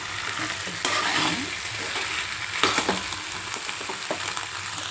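Rice dosa batter with potato is stirred in a bowl, producing a close, wet, continuous mixing and squelching with a sizzle-like texture and occasional sharper scrapes.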